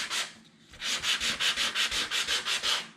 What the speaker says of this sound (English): I've got a little sand block here, and I'm just going to go over the cardstock lightly